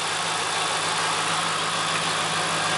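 A 2011 Dodge RAM with a 4.7 liter, dual-spark-plug engine idles just after a cold start, with a slight knock. The idle is a close, constant, even rumble with no talking.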